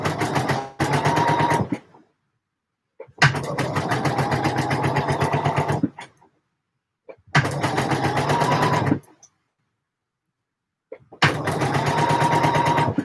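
A sewing machine stitches down the open edge of a binding in four separate runs of rapid, even needle clatter, each lasting one to three seconds, with silent pauses between them.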